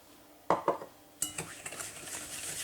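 A spoon clinks against a bowl a couple of times, then scrapes and swirls through a thick mixture of kefir and sugar in quick, steady strokes.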